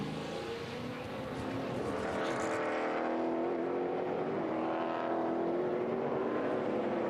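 A NASCAR race car roars away from its pit stop after four tires and fuel during the 2014 Gardner Denver 200, its engine a loud, sustained drone layered with the racket of other cars and the circuit's ambience.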